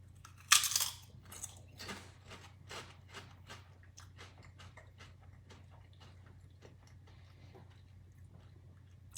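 Flavored potato chips coated to taste like scrambled eggs are crunched and chewed close up, starting with one sharp bite and followed by a steady run of quieter crunches over a low hum.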